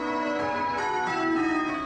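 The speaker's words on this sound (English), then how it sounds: "The bells ringing as they did a century ago to mark the end of World War I." Church bells ring out in a steady, resonant peal for Remembrance Day in Tasmania, their overlapping tones sustained and ringing throughout, with no voices.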